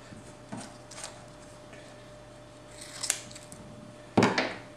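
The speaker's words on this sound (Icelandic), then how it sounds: "Ég er að klippa núna hérna á tvöfalt límband sem við ætlum svo að setja hérna" Scissors cut double-sided tape used to fix Mylar film to a frame for shirt printing, giving a few sharp, close snips spread out over a quiet background hiss, with the loudest snip near the end.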